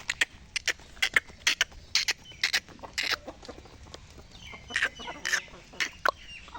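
Chickens and roosters clucking close by in a yard, a run of short sharp clucks and squawks in an uneven rhythm over quiet background.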